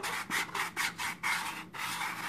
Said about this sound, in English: go ahead and like sand the edge to a little roundedness right here